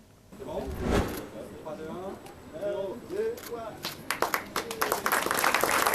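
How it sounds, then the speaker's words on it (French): At the opening ceremony of a new Pôle emploi job-centre agency in Petit-Bourg, a voice talks at first, then a crowd breaks into scattered, crisp applause that builds toward the end. "Des applaudissements et des sourires pleins d'espoir ce matin lors de l'inauguration de la nouvelle agence Pôle emploi de Petit-Bourg"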